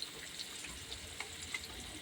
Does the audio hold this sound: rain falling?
no